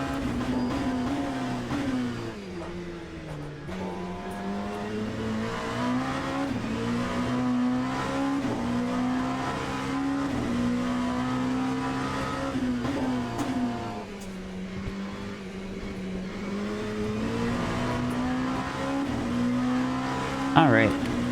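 Race car engine in the Le Mans Ultimate sim racing game, running on cold tires, revving steadily with rising and falling pitch as gears shift down, loud and continuous with a talking voice over it.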